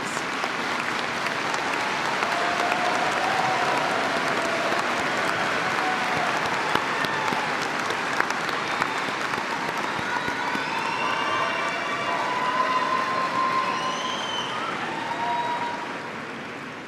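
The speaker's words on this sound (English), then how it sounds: "Would you please stand or wave at us so we can acknowledge you with a round of applause?" An audience at Georgia Gwinnett College's spring afternoon commencement ceremony applauds loudly and continuously in a large hall, a dense, sustained roar of clapping that tapers only slightly at the end.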